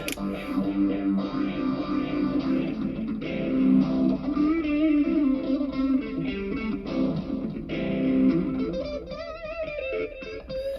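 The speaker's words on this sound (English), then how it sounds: "I want to hear phaser with delay." Guitar chords and picked phrases through a LEKATO multi-effects pedal, with a slow swirling phaser sweep and trailing delay echoes, steady and loud, played alone without voices.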